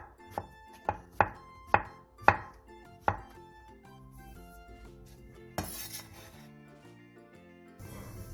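Kitchen knife slicing king oyster mushrooms about 0.3 cm thick on a board: six sharp, evenly spaced chops close up, followed by clinking and a longer clatter.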